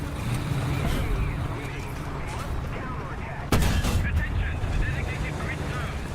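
Tank cannon fire in War Thunder: a single sharp, heavy blast cuts in midway through an ongoing engine rumble, with voices talking over the game sound.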